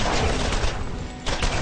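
Rapid video game gunfire from a pistol blasting enemies, a dense sustained burst of loud shots that dips briefly before resuming at full force.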